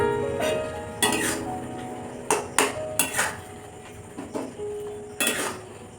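A utensil scrapes and clinks against a pan while egg and butter Maggi noodles are stirred, giving several sharp metallic knocks spaced irregularly over a quiet background.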